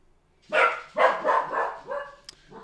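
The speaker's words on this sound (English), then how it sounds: "There he is. He's barking." A dog barks in a short burst, about four rough barks close together, nearby and fairly loud, followed by a brief sharp click.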